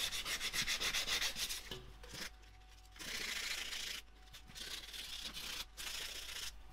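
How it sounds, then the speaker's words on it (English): Fingernail scraped across sanded smooth UV-cured filler paste on a 3D-printed part, several short close-up rubbing strokes separated by brief pauses, fairly quiet and dry. "Just hear the sound difference of me running my nail across it."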